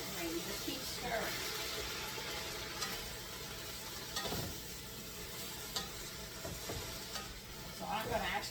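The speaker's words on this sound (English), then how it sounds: "stir it around and coat it with the oil and the onions" Greens frying in oil with onions sizzle steadily in a pan, with a spoon scraping and stirring through them at a low, close level.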